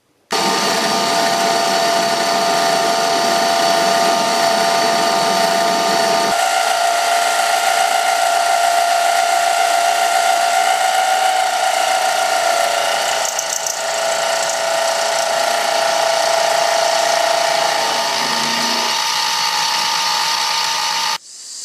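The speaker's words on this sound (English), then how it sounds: "So I'm going to mill a Z-shaped bracket out of this aluminum." A milling machine cuts a Z-shaped aluminum bracket with a loud, steady high whine that runs without a break and shifts pitch partway through.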